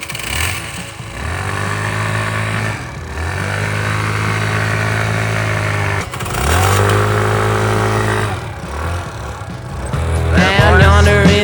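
A sailboat's engine starting and running at a dock, a steady droning idle that dips briefly and picks up again several times, ending in a louder rev.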